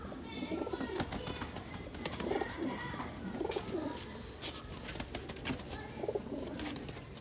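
Pigeons, including a black-faced breeder pigeon, cooing in soft repeated rising and falling calls, faint against background noise with a few wing flutters.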